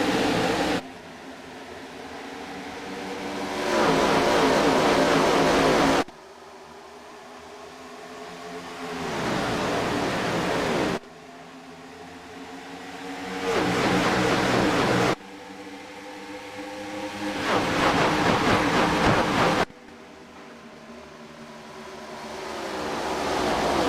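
ARCA race cars in the iRacing video game roar at the start of a race at Kentucky Speedway, a broad engine drone that swells and cuts between several sections of different loudness.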